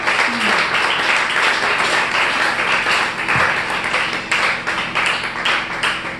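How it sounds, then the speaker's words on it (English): An audience at a parenting speech event claps for the parents in a dense, continuous round of applause that stays loud and even throughout, with no talk over it. "Please, a round of applause for all the parents here today."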